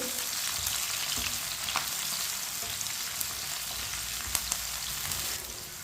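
Finely chopped tomatoes and green chillies cooking in a pan with browned garlic for a potato sabzi, a steady hissing sizzle with occasional soft clicks of a spoon stirring, no talk.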